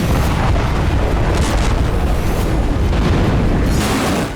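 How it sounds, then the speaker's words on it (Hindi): Explosion at a Sarmat intercontinental ballistic missile base in Tver, Russia: a sustained loud, rumbling roar fills the whole stretch with no pauses, dense and close, easing slightly only near the end. "ये तवेर में धमाके की तस्वीरें।"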